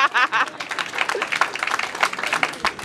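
An audience at a men's choir concert applauds with brisk, close clapping that rises and falls, with a few voices and light chuckles mixed in.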